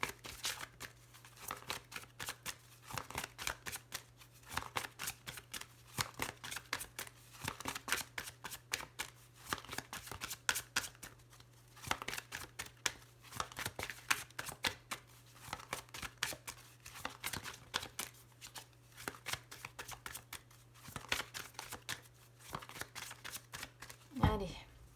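Tarot cards being shuffled and cut by hand, a long run of quick crisp riffling bursts in repeated waves, fairly quiet and close, over a low steady hum.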